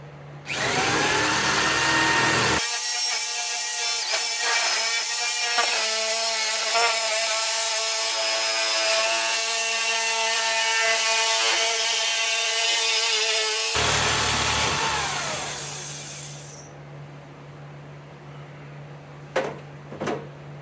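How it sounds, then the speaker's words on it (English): A power tool cuts through sheet steel for a floor pan patch on a 1965 Thunderbird, loud and steady for about eleven seconds with a tonal whine, then winding down into quieter shop noise and a couple of sharp knocks. "let's get some steel cut and let's go after it"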